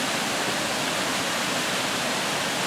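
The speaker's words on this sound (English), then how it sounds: "This is a lovely waterfall down here" Laxey waterfall on the River Laxey, Isle of Man, roaring as a dense, steady broadband rush of falling water heard without voices for a few seconds.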